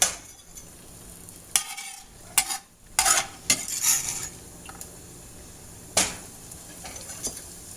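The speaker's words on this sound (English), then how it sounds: "So we're going to saute them in the butter a little bit." Onions sautéing in melted butter in a pan, a soft steady sizzle broken by several sharp scraping stirs of a utensil against the pan.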